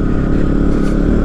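A KTM Duke 125 motorcycle rides off-road over a rough, broken mountain track between Bir and Tatvani, its engine a steady, dense rumble mixed with rattling and scraping. Heard close and continuous, with no talking.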